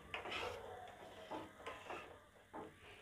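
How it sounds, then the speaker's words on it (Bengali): Spoon stirring a thick firni mixture in a pot, giving soft repeated scraping strokes in a slow rhythm, close and fairly quiet. "ভালোভাবে মিক্স করে নিব।"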